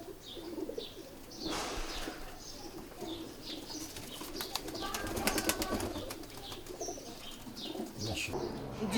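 Red-eyed pigeons coo in soft, repeated rolling calls, mixed with chirps and brief fluttering, heard close and fairly steady throughout with no talking.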